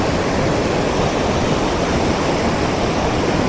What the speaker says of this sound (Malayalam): ഇത് കാഞ്ചിബെലി വാട്ടർഫാൾസ് ആണ് കേട്ടോ.